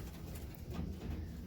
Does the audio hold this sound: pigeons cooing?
yes